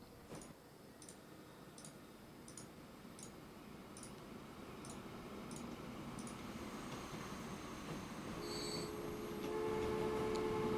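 Trains rolling into a station in the Transport Fever game, a steady low rumble with faint repeated ticking clicks and a soft high whine building toward the end, with no voices.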